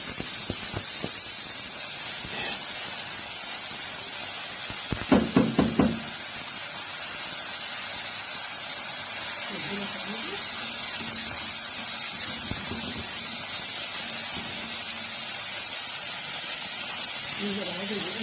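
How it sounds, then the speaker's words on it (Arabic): Honey poured onto hot toasted vermicelli gives a steady, bright sizzling hiss throughout. A few clattering knocks sound near the start, and a person talks over it. "هننزل عليها بالعسل"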